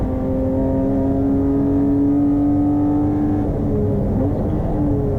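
A 2.8 litre BMW race car on a fast lap at Hampton Downs, its engine droning loudly and steadily at high revs, with a brief drop and a gear change near the end, recorded close from onboard, with no talking.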